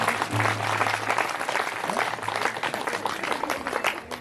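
An audience in a Hindi-speaking gathering claps together in sustained, moderately loud applause that slightly thins toward the end.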